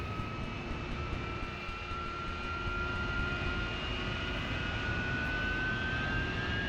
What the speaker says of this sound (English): Let's get our nozzle position, so let's just bring our RPM up.